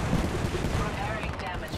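Dense rapid gunfire in a video game after an order to open fire, a continuous loud crackle of shots with no gaps across the whole moment, blended with game sounds.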